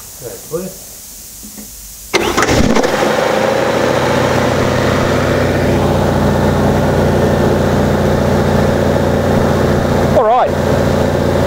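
A car engine fitted with freshly installed, untuned triple Weber carburettors cranks and catches, then settles into a loud, steady idle with a deep, even rumble that carries on to the end; a brief voice comes just before it starts.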